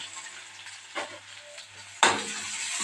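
Ginger and garlic go into hot oil in a kadai already holding fennel, cloves, cardamom and cinnamon. A soft frying hiss flares into a sharp, louder sizzle as they drop in, then keeps crackling steadily nearby.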